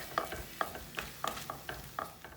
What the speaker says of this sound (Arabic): عندي هنا سجق حطيته في شويه زيت، وبعدين هقلبهم